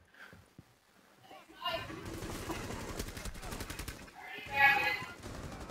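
Rapid automatic gunfire in the video game Rainbow Six Siege, a sustained burst of fast rattling shots with a louder bang near the end, over quiet game sounds.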